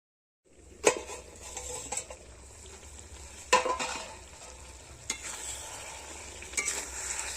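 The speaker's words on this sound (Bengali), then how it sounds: "আর আলুটাও দিয়ে দিচ্ছি এবার এটাকে ঢাকনা চাপিয়ে আমি ভালো করে কষিয়ে নেব" Potatoes and chicken frying in a pan, stirred with scraping clinks at intervals over a steady low sizzle, the lid set in place for slow cooking.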